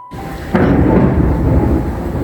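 A thunderstorm with rain: a loud, close rumble of thunder breaks in over steady rainfall, then rolls on continuously.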